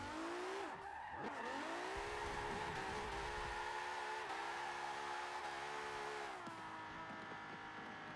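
A 1969 Nissan Fairlady Z tuned to 439 bhp for tandem drifting in Forza Motorsport 7, its engine roaring loudly and continuously at high revs while the tires squeal and skid throughout.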